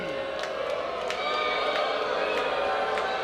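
Wrestling crowd in the Carolinas jeering a wrestler during a match, a steady dense roar of voices with scattered sharp shouts and whistles, a commentator's voice faint beneath the noise.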